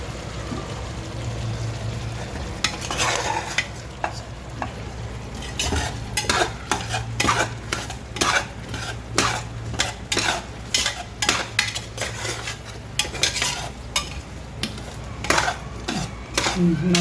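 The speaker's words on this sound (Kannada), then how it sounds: "ಇದು ಮಸಾಲೆ ಎಣ್ಣೆಯಲ್ಲಿ ಚೆನ್ನಾಗಿ ಫ್ರೈ ಆಗಬೇಕು." Masala for vegetable pulao fries in oil while a spoon stirs it, steady sizzling under a run of rhythmic metallic scrapes and clinks against the pan, close and fairly loud.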